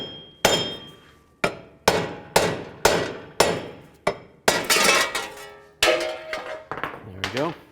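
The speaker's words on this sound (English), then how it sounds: "Now I'm just going to take a hammer and hit it from the backside, this hub surface right here" Metal hammer blows strike the backside of a wheel hub on a 2003-2007 Cadillac CTS, about a dozen sharp ringing clanks at an irregular pace, close and loud, with a brief squeak near the end.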